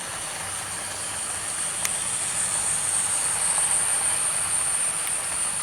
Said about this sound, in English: Got James and Donald passing each other here.